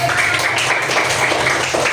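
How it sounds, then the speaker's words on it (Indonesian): Classmates clap together in a classroom after a group presentation, a steady, dense wash of applause that holds evenly throughout without any talking over it. "Tepuk tangan dulu ke teman-teman kalian."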